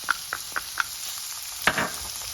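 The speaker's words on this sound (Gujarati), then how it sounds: "હવે આપણે એમાં કેચઅપ મિક્સ કરીશું" Ketchup is stirred into chilli paneer in a hot pan: a soft background sizzle with four evenly spaced taps of a spoon against the pan, then a louder scrape and clatter.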